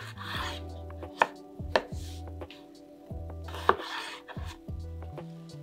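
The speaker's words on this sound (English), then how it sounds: "Large potatoes cut into quarters, but if it's a medium or small piece, just cut it in half." A knife cuts fingerling potatoes in half on a board, giving about four sharp, close thunks at irregular intervals. Softer rubbing and scraping sounds fall between the cuts, and no one speaks.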